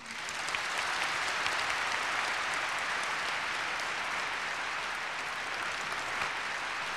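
A large audience claps loudly and steadily throughout a year-end university concert given with the Seoul Philharmonic Orchestra, forming a dense, continuous wash of applause with no talk over it.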